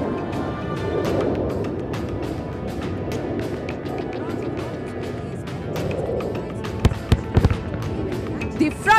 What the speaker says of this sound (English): The fragmentation bombs have shredded the target to bits.